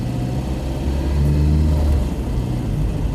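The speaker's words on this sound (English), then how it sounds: "Nice, you know, torquey engine, so lots of low down grunt." A Skoda Favorit engine pulls under acceleration while driving, heard from inside the car as a steady low rumble that swells briefly mid-way and then settles.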